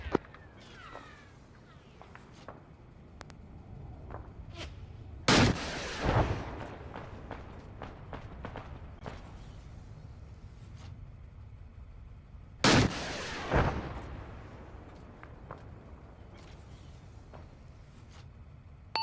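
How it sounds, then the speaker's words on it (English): SPG firing at a tank in a co-op military video game on the Zargabad map: two loud, heavy blasts with rolling tails about seven seconds apart, over faint clicks and background noise. "I'm hitting it with an SPG."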